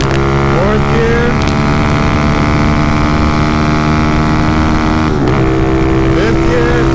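A motorcycle engine drones loudly and continuously as the rider holds a wheelie on a fresh road and shifts up through the gears, with pitch changes at each shift under wind noise.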